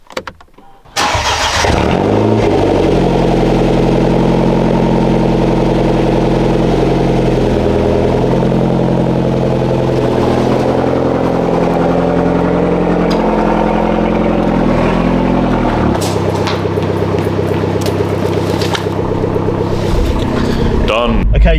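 A BMW 1 Series engine hums loudly and steadily from inside the car while driving, its tone stepping up and down through gear changes for about twenty seconds after a brief quiet start.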